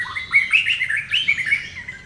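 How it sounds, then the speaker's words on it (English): A shama bird sings loud, close, clear whistled phrases, a quick run of bright chirps and rising and falling notes in rapid succession with no other sounds around it. "this shama is one of the pretty loudest I've heard here"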